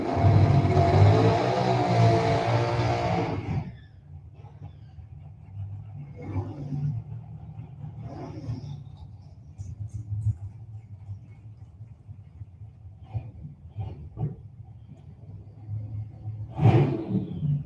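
Ford Mustang drag race cars at Gainesville Raceway in an ET race, with a loud engine roar that cuts off abruptly, then distant engine rumbles and revs rising and fading across the track.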